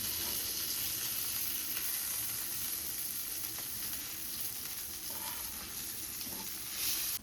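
Kokari fish frying in oil, Malvani style: a loud, continuous crackling sizzle, close and steady throughout, with a few brief pops and no voices.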